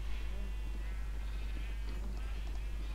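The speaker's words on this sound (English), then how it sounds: "So let's feed all of the sheep," Sheep bleating repeatedly in the video game Minecraft while they are being fed, the calls fairly faint over a constant low hum.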